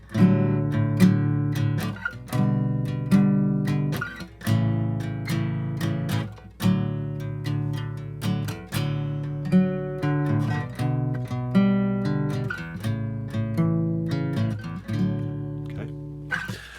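Guitar chords strummed alone in a steady, repeating pattern, a root-position V chord resolving back to I, each chord ringing briefly before the next, alternating back and forth.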